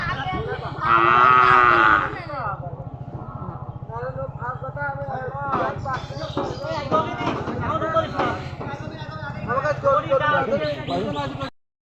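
A loud, drawn-out cow moo rings out near the start, followed by shouting voices and commotion as cattle are loaded onto a truck.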